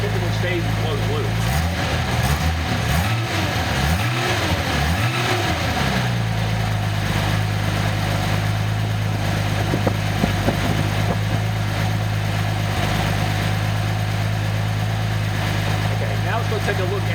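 A Nissan 280ZX turbo engine runs on a test stand, holding a steady idle drone after a few early rising and falling revs, with someone talking over it throughout.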